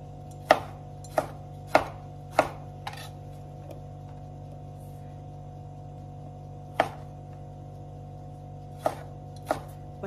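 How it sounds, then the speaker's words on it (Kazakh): Tomatoes being chopped diagonally on a board for a salad, sharp knife thuds coming in irregular bursts with a long pause midway, close against a low steady hum. "менде помидорларымды қиғаштап турап жатырмын"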